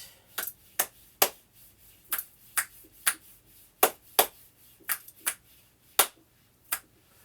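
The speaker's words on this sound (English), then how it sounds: "Like to give it a little clap snap" Sharp finger snaps and claps at a brisk, slightly uneven pace, about a dozen crisp close-up cracks over a quiet room, made during a full-body stretching routine.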